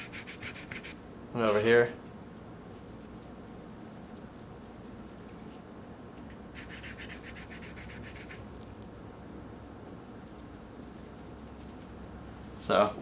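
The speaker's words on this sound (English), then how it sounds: "you can actually physically hear the difference in the surface as I rub this glove across there" A glove rubs across a restored carbon fiber surface with short, close, dry scuffing strokes, one early and a longer one mid-way, under a quiet background, with someone speaking briefly at the start and the end.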